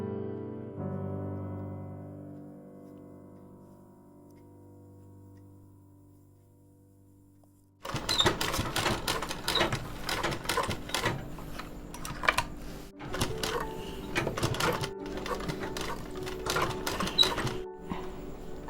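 Sewing machine stitching a small doll dress for a Laddu Gopal figure: after a quiet hum, a fast continuous mechanical rattle starts and runs close and loud, with brief pauses between bursts.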